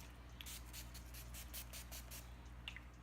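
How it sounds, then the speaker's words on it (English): Short repeated bursts of NYX makeup setting spray from a pump bottle, about eight quick hissing spritzes in a steady rhythm, close and fairly quiet over a low steady hum. "Spraying with my NYX."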